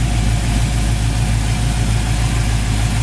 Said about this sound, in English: I get the opportunity to drive this beautiful blue 1969 Chevelle Super Sport, powered by an awesome running 396 V8 engine.